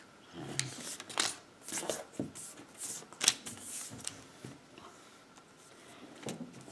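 Paper being folded into an origami bunny gives a run of close, soft crinkles, creases and rustles in irregular bursts, some sharper snaps between quieter handling.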